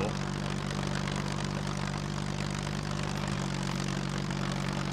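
In the survival video game SCUM, an airplane engine drones overhead as a steady, continuous propeller hum with a slight pitch shift partway through, moderately loud and unbroken.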